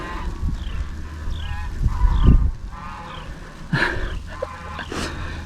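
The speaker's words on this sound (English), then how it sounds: "I hear my geese." Geese honking repeatedly at a moderate distance in a snowy field, the calls coming in scattered bursts over a steady outdoor background.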